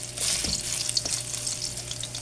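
Garlic sautéing in hot oil for a fish dish, giving a steady bright sizzle with a couple of soft stirring scrapes, close and continuous, with no one speaking.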